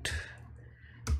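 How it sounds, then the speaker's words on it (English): A couple of sharp key clicks on a computer keyboard, one at the start and another near the end, faint and close with a quiet gap between. "press on the Windows key on your keyboard and press the period"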